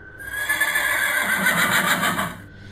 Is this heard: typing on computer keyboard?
no